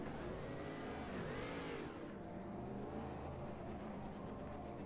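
Ginetta race car in the AMS2 racing game, engine revving and accelerating steadily with rising and falling pitch through gear changes, loud and continuous with no talk.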